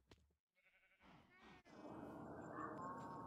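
A goat in the video game Minecraft gives a short wavering bleat that is fairly faint, set against game noise that rises into a steady broad rushing sound.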